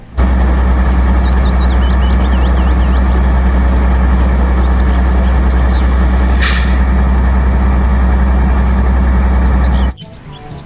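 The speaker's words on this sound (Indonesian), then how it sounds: "Yang ini ada mobil truk derek" Toy tow truck making a loud, steady electronic engine rumble that drones without pause for about ten seconds, with a brief hissing burst midway, then cuts off abruptly.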